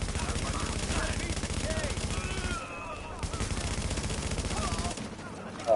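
Rapid automatic gunfire from players in a shooter video game, loud sustained bursts with a brief break in the middle, mixed under game sounds and voices.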